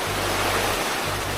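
A stream beside a fig field in June flows steadily, a continuous broad rush of water close by with no voices.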